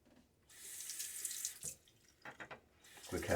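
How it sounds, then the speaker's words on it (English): Tap water runs into a sink in short bursts, rinsing a Fatip Piccolo OC safety razor mid-shave, a close, hissing splash that starts, pauses and resumes. "Quick half rinse."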